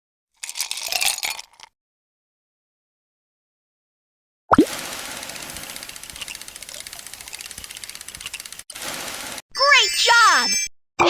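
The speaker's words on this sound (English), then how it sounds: "Pour the ice cubes into the ice crusher." Ice cubes tumbling into an ice crusher in a BabyBus kids game, with bursts of clattering, rattling noise and a bright cartoon chime at the end, separated by short silences.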